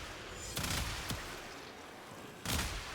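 An explosive gun in Warframe fires a few separate booming blasts over steady game background noise, with pauses between the shots and no talking.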